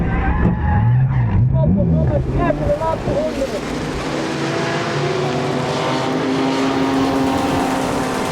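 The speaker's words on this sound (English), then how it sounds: "Turns out it's a blown tyre for Marco Poland." Race car tyres skid and scrub loudly after a blown left rear tyre in a right-hand corner at Zandvoort during a Supercar Challenge race, with engine noise running throughout and a commentator talking over it.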